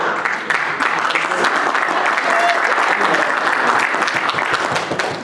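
A convention audience at a state Libertarian Party gathering claps steadily and loudly, a dense continuous round of applause from a sizable crowd sustained throughout.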